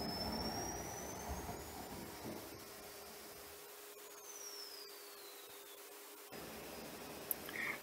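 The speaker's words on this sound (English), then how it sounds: "And in this case, the turbine auto restart again, then again, then again." A Swiwin model turbine engine with a pump fault repeatedly restarts on its own, a steady loud whine with tones sweeping in pitch, cutting off briefly and then spooling back up near the end.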